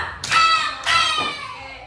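Two sharp bursts of clapping hands from a group of children in a classroom, a short pause between them, fairly close and loud with a bright room echo.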